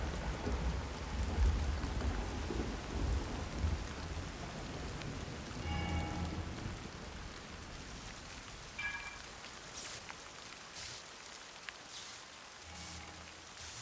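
Thunderstorm ambience in Zelda: Tears of the Kingdom over the Thunderhead Isles, with steady rain hiss, low rumbling thunder, and several sharp crackling lightning strikes in the latter half, no talking.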